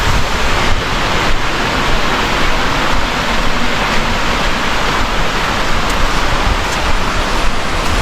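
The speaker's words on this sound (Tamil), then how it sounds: "இங்கே ஒரு அருவி போயிட்டுருக்கு" A waterfall on the Agathiyar Malai (Pothigai hills) mountain trek gives off a constant, loud, close rushing wash of water that runs unbroken with no talking.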